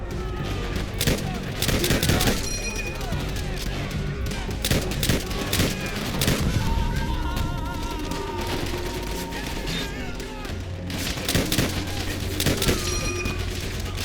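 M1 Garand rifle and battlefield gunfire in the World War II game Call of Duty: World at War, repeated loud close rifle shots over a dense fusillade of distant fire and booms, with a voice talking over parts of it.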